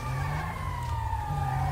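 A police or ambulance siren in a roleplay video game wails, sweeping slowly downward over a low rumbling engine, steady and fairly loud throughout.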